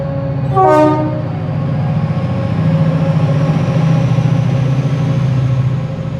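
A Class 68 diesel locomotive sounds its horn and then pulls out of Leeds station. A loud, brief two-tone horn blast rises over the steady, close rumble of the engine, which builds as the train departs. No voices are heard.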